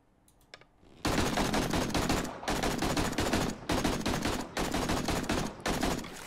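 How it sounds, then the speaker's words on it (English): Rapid automatic gunfire in the survival game 7 Days to Die, modded with Darkness Falls, loud and close in several sustained bursts separated by brief pauses, preceded by a few faint clicks. "Well, they're gonna shoot at him and miss."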